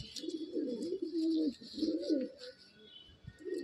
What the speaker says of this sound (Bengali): পুরনো জেনারেশনের পায়রা, পুরনো জেনারেশনের ম্যাড্রাস পায়রা